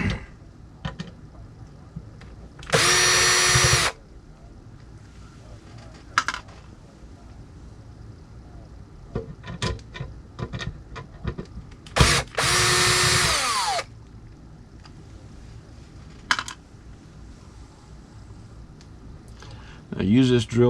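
Two short bursts of a cordless drill driver removing screws whir up and stop, separated by clinks, handling noises and small knocks, with another brief whir at the end.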